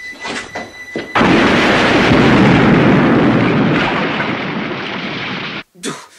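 A film explosion erupts after a short sound of movement, a dense roaring blast that stays loud and broad for several seconds before cutting off abruptly, followed by a brief thump.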